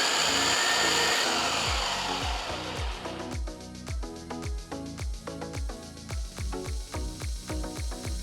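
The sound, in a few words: mixer grinder grinding ginger chutney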